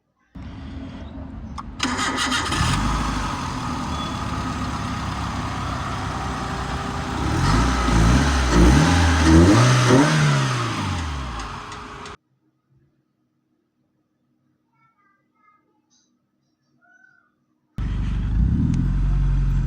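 A restored Suzuki Samurai off-road car engine with a custom exhaust cranks and starts, idles steadily, then revs up and down in several rising and falling surges before cutting off; after a silence it starts again.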